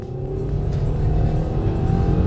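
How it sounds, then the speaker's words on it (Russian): Lada Vesta SW Cross 2020 with a CVT automatic pulling away hard from a standstill, a steady droning engine rising gradually under a constant rumble, heard from inside the car. "Мы оттормаживаемся на полный ноль и резкий старт."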